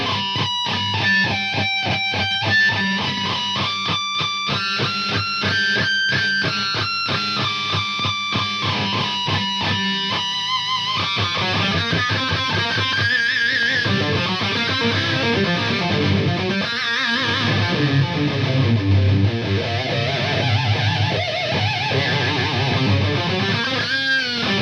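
An electric guitar plays pinched artificial harmonics, squealing high overtones over picked notes in a rapid, distorted run, loud and dense throughout.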